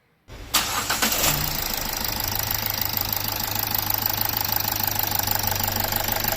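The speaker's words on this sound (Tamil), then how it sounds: "இப்போ வண்டி ஸ்டார்ட் பண்ணுறேன்." A Toyota Etios engine, just fitted with a new water pump, cranks and fires almost at once, then settles into a steady, close rhythmic idle that continues to the end.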